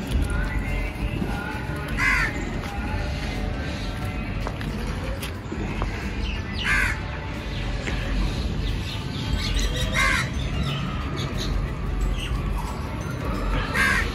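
Several loud crow caws ring out at intervals over a busy outdoor background, with other birds calling faintly in between.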